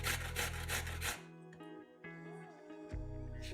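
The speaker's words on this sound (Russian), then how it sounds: "1 сырую морковь трем на крупной терке" Raw carrot rubbed on a coarse grater in a kitchen: fast rasping strokes at first, then a pause of quieter clatter, with the scraping resuming at the end.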